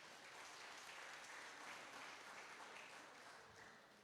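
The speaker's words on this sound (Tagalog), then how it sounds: "Isa nga pong malakas na palakpak para sa ating Panginoon" A church congregation bursts into steady applause for the Lord, many hands clapping together in a dense, even wash that fades slightly at the end.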